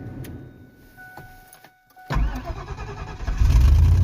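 A truck engine cranks and fires up on a freezing cold morning: near-silence with faint electronic chime tones, then the engine catches abruptly and settles into a loud, close, rumbling idle.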